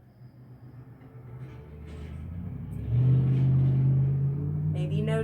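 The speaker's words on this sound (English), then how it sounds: "Maybe noticing traffic" Traffic passing outside a house makes a low, steady rumble that swells into a louder, nearer vehicle drone partway through and then holds.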